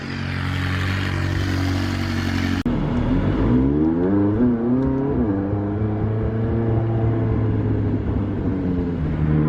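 Continuous McLaren 600LT engine roar with turbo whistles through an aftermarket exhaust, rising and falling whines, a sharp shift in tone partway through, loud and close throughout.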